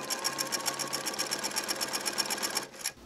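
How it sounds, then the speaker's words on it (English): Sewing machine running steadily as it stitches two pieces of vest pocketing together for a 1920s-style suit, a close, continuous rapid whirring that cuts off just before the end. "this is the point where I'm actually stitching the two pieces of pocketing together"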